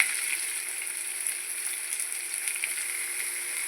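Chopped onion frying in coconut oil in a pan, giving a steady, close sizzle with faint crackles that runs evenly throughout, and no talking.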